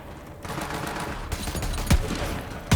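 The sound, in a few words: gunfire from a magnum in the video game Borderlands 3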